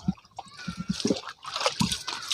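Water is splashed onto someone's feet outdoors in a Betawi comedy scene, with a series of short slaps and sloshing splashes in an uneven rhythm, close and moderately loud.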